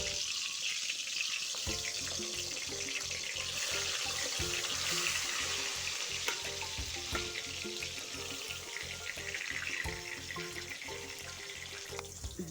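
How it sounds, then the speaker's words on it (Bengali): Steady hiss and crackle of salt-and-turmeric-coated eggplant slices frying in hot oil, continuous and close, with faint clinks now and then; no voices. "লবণ হলুদ মেখে রাখা বেগুনগুলি ভালো করে ভেজে নিব"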